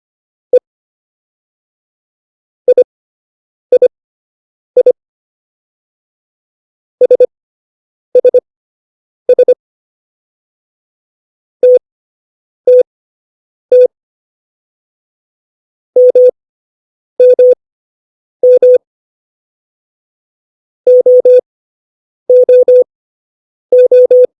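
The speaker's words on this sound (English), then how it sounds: "Now follow this text again as you hear the Morse" Morse code tones for the letters E, O, A and I, clean pure beeps in short and long groups separated by silent gaps, loud and isolated throughout.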